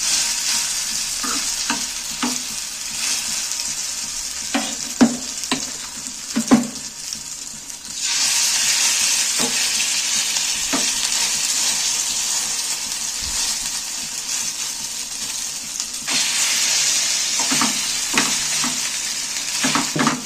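Egg and potato rounds fry in a little hot oil, a continuous close sizzle that swells louder partway through, punctuated by soft spoon taps and clinks against the pan.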